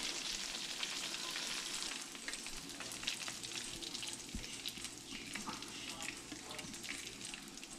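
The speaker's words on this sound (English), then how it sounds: "The longer you cook, the less grease you have in the pan." Squirrel meat frying in grease in a pan, giving a steady, dense sizzle and crackle that runs without a break from start to finish, close and moderately loud with no talking.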